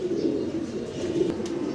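Fancy pigeons coo steadily nearby at a pigeon market, low soft repeated calls overlapping one another, with no voices.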